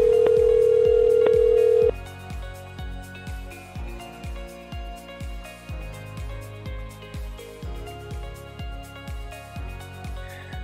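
An outgoing call placed from the Aloware Talk 2.0 dialer app: a steady tone holds for about two seconds, then a soft, evenly spaced pulsing pattern repeats for the rest of the clip, with no voices.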